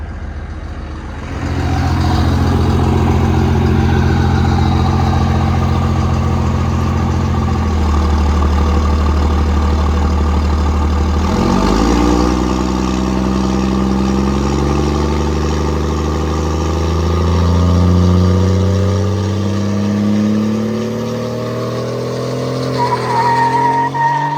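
A car engine roars loud and close in a burnout, holding steady revs, then dropping and climbing again as the tires spin, and easing off near the end.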